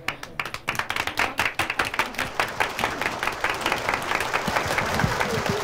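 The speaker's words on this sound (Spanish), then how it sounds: "un aplauso para todas estas bellas señoritas" An audience at a live anniversary performance claps, starting with a few distinct hand claps that swell into rapid, continuous applause from a nearby crowd.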